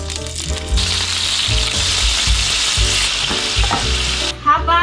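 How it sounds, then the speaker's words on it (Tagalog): Chicken pieces frying in hot cooking oil, a loud, steady, dense sizzle that runs continuously with bubbling crackle, close up and alone until it briefly dips near the end. "Kailangan natin ng mantika. Fry na natin ang chicken."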